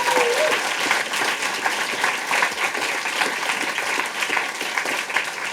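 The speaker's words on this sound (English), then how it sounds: "Give them a round of applause" A stand-up comedy audience applauds in a steady, dense wash of clapping that holds evenly for several seconds, moderately loud and filling the room.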